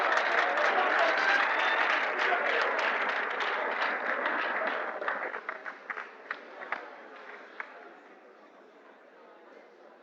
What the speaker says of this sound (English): A round of applause for our sister school.